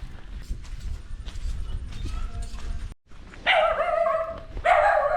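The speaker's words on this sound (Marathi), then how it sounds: "कुत्रा आहे तिकडे" Footsteps and rustling in light drizzle at first, then a dog barks in loud, close bursts, twice in quick succession.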